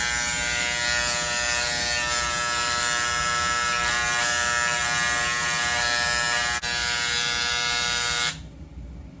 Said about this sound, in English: We have this little scribing pen. Basically, you turn it on, and this is a little guy that just goes up and down, kind of like a tattoo needle.